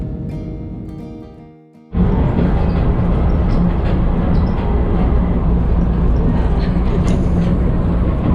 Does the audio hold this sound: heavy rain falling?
no